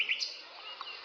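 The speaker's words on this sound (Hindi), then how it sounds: "कूकती कोयल" A koel calls faintly in a brief, high, clear phrase of short notes, heard alone against quiet background hiss.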